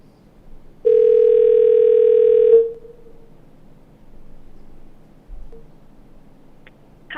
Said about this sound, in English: Mr. Stoberner, if you could call our online caller, Jennifer Buse